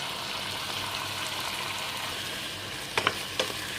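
Squash and bitter gourd are stirred with fish in a frying pan, giving a steady sizzle throughout, with two or three sharp spatula scrapes near the end.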